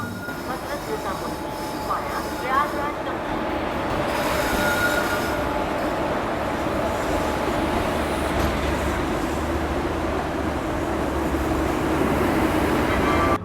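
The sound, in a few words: Patna-Delhi AC special train with WG7 locomotive running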